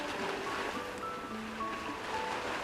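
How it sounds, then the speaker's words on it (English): Ocean surf rolls in as a steady, soft wash of waves heard over a phone line in the Love and Deepspace game, continuous and unbroken with no voices. "why do I hear waves on your end?"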